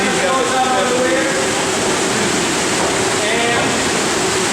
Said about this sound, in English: So then the water goes out over here.